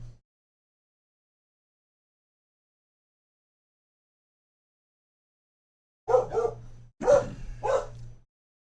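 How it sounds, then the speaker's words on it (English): Dog gives two or three close, sharp barks after a long silence, at home during a weather update as thunderstorms approach eastern Kansas and west central Missouri. "I don't know what he's barking at now."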